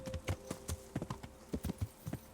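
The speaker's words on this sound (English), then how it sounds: "ride my horse right through everyone" Horse hooves clip-clopping at a steady trot while riding in the video game Kingdom Come: Deliverance, with rhythmic, fairly close thuds over a faint background tone.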